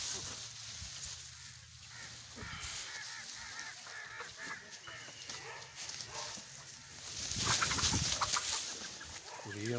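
Hens cluck and call in a village poultry enclosure, with a mix of fowl and goose-like honks rising to a louder burst near the end over a steady background.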